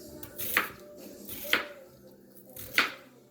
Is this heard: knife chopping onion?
yes